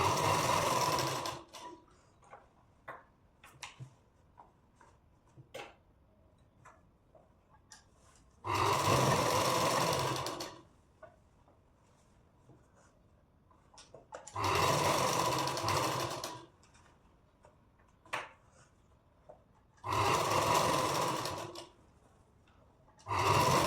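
A sewing machine runs a hem stitch along the edge of a princess-cut deep-neck blouse in three loud, steady bursts of a few seconds each, with quiet handling sounds between them.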